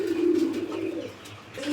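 Pigeons coo close by at a pigeon market, a soft, low, throaty burble rising and falling over under two seconds with no talk over it.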